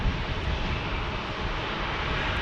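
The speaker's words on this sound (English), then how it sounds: "American definitely wanted me to know that they were landing." An American Airlines plane landing in San Diego gives a loud, continuous engine roar that stays steady and close throughout.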